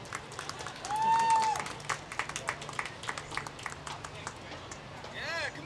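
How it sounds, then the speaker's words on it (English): Scattered applause and cheering from a comedy club audience greet a comedian taking the stage, with loose claps, a whistle and voices in the crowd. "Applause."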